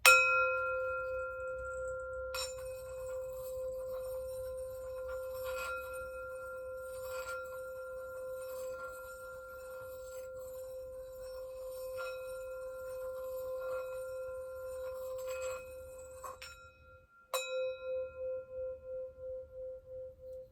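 A metal singing bowl is struck and rings in a long sustained tone with a few overtones, fading slowly, then is struck again near the end and throbs with a pulsing beat as it decays; no talking.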